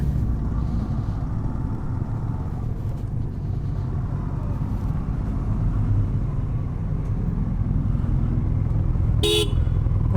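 A vehicle horn blares in one short loud toot near the end, over steady road traffic rumble and engine noise.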